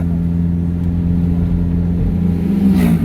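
A car engine labours at a steady low drone, straining without rest up a steep mountain road between Balamban and Cebu City in the Philippines, loud and close throughout.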